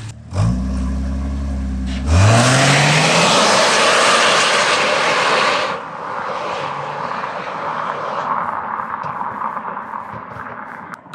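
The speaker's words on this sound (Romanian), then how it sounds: "Îmi place și cum se aude compresorul de când i-am făcut admisia." An engine with a modified intake revs hard with a rising turbo compressor whine, then a loud rushing whoosh holds for a few seconds before settling into a lower, steady running roar.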